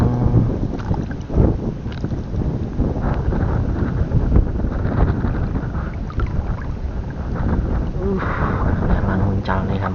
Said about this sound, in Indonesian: Anginnya kenceng.